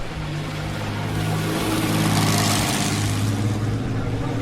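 A 1920s-style Sunbeam Indianapolis racing car with a 6-cylinder engine climbing a hill, a loud steady engine roar that swells and holds as it passes close by.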